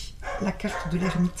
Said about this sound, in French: Pardon pour mon chien qui aboie.